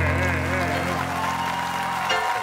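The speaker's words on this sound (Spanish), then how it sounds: "Mirá cómo te aplauden" An audience at a televised blind-audition singing contest applauds steadily, the dense clapping running under the last sustained sung note and some voices.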